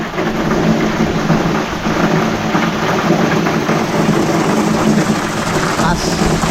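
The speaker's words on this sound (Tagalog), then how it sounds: "bumuhos na naman ng malakas na ulan" Heavy rain pours down steadily and loudly in a continuous wash, with a low rumble beneath that may be thunder, a hint of voice in the background.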